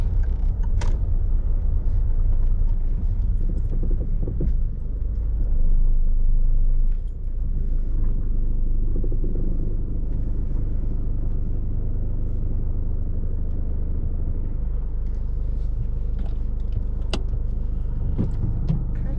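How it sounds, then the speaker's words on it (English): A car's engine idles steadily during forward bay parking on a driving test, a low continuous rumble heard from inside the cabin with a few faint clicks and rattles over it. "turn the car off when you're ready"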